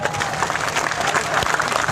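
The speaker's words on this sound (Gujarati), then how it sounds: "2 હાથ ઊંચા રાખી જોરદાર તાળીઓ પાડો." Dense, steady applause from a large crowd at a political rally in Banaskantha, Gujarat, close and loud throughout a brief burst, with no pause in the clapping.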